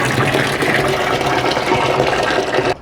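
Water gushes steadily and loudly from a garden tank into a watering can on a UK allotment plot, then stops abruptly just before the end.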